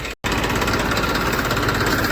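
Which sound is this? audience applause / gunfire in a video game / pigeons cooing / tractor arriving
tractor arriving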